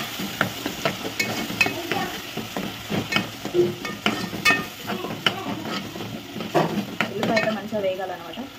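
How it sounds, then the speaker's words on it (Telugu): Chopped onion fries for a chicken curry, a continuous sizzle broken by frequent scraping knocks and clinks as a spoon stirs it around the pan, close and fairly loud with an irregular rhythm. "ఉల్లిపాయ అయితే మంచిగా వేగాలన్నమాట"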